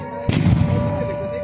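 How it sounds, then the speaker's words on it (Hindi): A single deep, booming explosion bursts out and rumbles away during an air raid drill, with a steady siren tone droning in the background. "देखेंगे अब ये धमाका हुआ"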